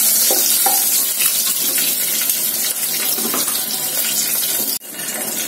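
Nigella seeds and green chillies fry in hot oil for a tempering, with a loud, close, continuous sizzle and crackle and occasional stirring scrapes, and no talking.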